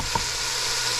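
Pigtails frying in a pot for a pigeon pea cook-up, giving a steady, close sizzle with a brief soft clink near the start.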